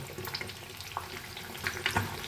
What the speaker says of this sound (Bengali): ডিমটা ভালো করে ফ্রাই করে তুলে রাখবো